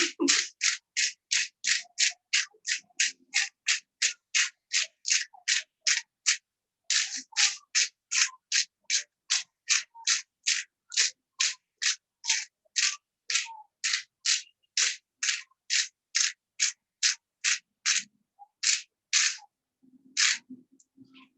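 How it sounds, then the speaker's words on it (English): Hand-cranked salt grinder twisting rapidly in a kitchen gives a long run of evenly spaced crunchy scrapes, close and crisp, with a brief pause midway and a slowing finish. "I'm using a grinder, so I'm going to go as quick as I can."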